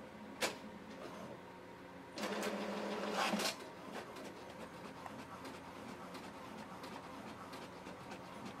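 An HP DeskJet 2755 inkjet printer whirs and clunks as it feeds and prints a page, with a louder mechanical grinding burst early on and then a steady, fainter carriage rattle, heard close with no talk.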